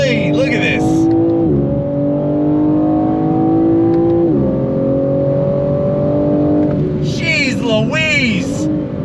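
Engine of a 2022 BMW M4 convertible with xDrive all-wheel drive revs loudly under acceleration, pitch climbing through gears with clear shift drops, close and forceful, with tire squeal bursts near the start and end.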